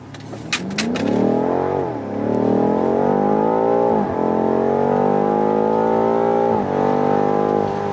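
A 2019 BMW M5 accelerating at full throttle, its engine roaring loudly and climbing through the revs, with quick dips at each gear change before pulling again, heard close from inside the car.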